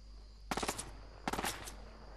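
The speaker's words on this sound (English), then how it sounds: "Wait, look where they're shooting at." Gunfire in the Fortnite video game: two quick rapid-fire bursts of several shots each, about a second apart, fairly distant and moderate in loudness over a low background hum.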